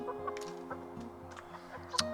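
Young chickens about twelve weeks old clucking in a muddy run, soft repeated clucks and short chirpy calls at close range over a faint steady background hum.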